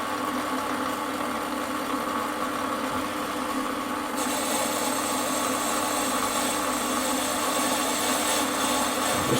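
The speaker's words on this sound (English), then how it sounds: "I'm just taking the skim off this" Warco metal lathe taking a light skim cut on an ER32 collet chuck, a steady whirring machine drone with a constant cutting hiss, close and even throughout.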